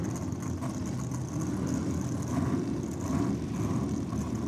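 Drag racing cars, one of them a nitrous-equipped Chevy Camaro, rumble at a distance on the strip in a steady broad engine roar, with no voices over it.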